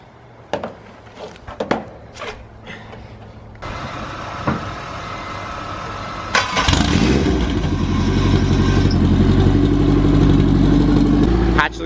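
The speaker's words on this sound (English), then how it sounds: "the hatch probably is not gonna want to start for a second because of that E85" A hatchback running on E85 fuel is jump started. Clicks and knocks come first, then the engine cranks and catches into a loud, steady idle that continues to the end, with people talking nearby.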